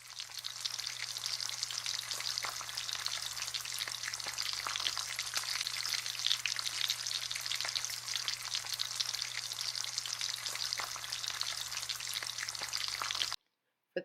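A ribeye steak frying in butter in a pan gives a steady, bright sizzle that holds evenly for most of the stretch, with a low constant hum beneath, then cuts off abruptly near the end.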